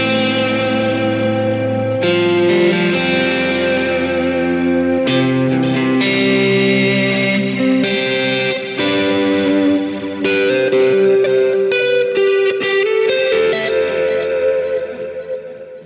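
Electric guitar through a Kemper Worship profile based on a Vox AC30, playing loud, sustained chords and melodic lines with heavy echo, chorus and reverb-drenched ambience, continuous with no talking.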